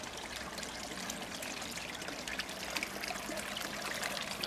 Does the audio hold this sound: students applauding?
no